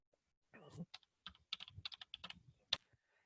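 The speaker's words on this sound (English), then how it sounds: "I have to type it in here" Keystrokes on a computer keyboard tapped in an irregular burst of about a dozen close clicks, with one sharper louder key press near the end, heard alone in a quiet room.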